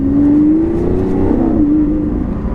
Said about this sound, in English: there is no sound like a Lamborghini V12